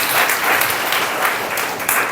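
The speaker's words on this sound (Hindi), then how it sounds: "ताली बजा के प्रभु का धन्यवाद करें, जोर से ताली बजा।" A church congregation claps loudly in thanks during a sermon, giving a dense, continuous wash of applause from many hands that holds steady throughout with no voices over it.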